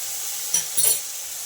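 Spices and ginger paste fry in a pan for egg tarka with lentils, a soft steady sizzle with a couple of brief stirring scrapes near the middle, close and without talk.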